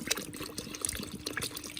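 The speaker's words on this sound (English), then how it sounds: "Now you can pour in water. You're going to cover the whole roast now." Water is poured from a 600 ml bottle into a camp oven over a pork roast cooking on a fire, giving a brief, close splashing and trickling pour.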